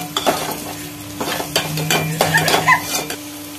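Curry leaves and onions fry in hot oil for a Tirunelveli-style kuzhambu, a steady sizzle broken by repeated spoon scrapes and stirring clatter against the pan, close and fairly loud, with no talking.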